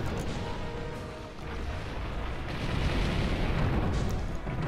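Cannons firing during a hunt in Monster Hunter Generations Ultimate, a loud rumbling wash of booms and blasts layered over constant game noise, close and sustained throughout.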